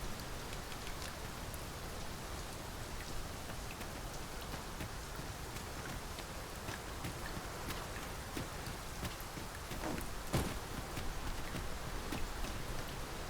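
Steady, heavy rainfall in the video game Dragon's Dogma 2 pours without pause, a dense hiss of drops drumming on surfaces throughout.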